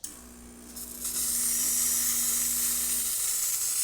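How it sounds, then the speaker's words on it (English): A steady, loud hiss of steam blasts continuously from the steam wand of a Profitec Pro300 espresso machine, with a low hum underneath that cuts out near the end. "And then finally our steam wand."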